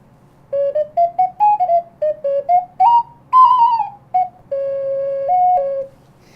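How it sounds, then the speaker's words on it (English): Synthesized ocarina tones generated in a Python notebook play a short melodic phrase of about a dozen clear, pure notes, mostly brief and detached with a couple of longer held tones near the end, close and fairly loud with no talking. "And then we have the crazy stuff, which is the ocarina."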